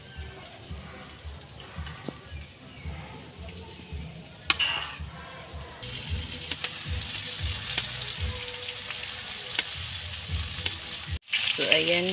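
Chicken feet frying in a pan, a steady close sizzle with bubbling crackle throughout, occasional clicks and a brief clatter near the end.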